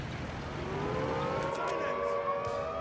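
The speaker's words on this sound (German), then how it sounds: "Lass die Sirenen heulen." A wailing alarm siren rises and sweeps steadily through the battlefield din of Company of Heroes 3, holding loud and continuous for the whole stretch as other game sounds mix underneath.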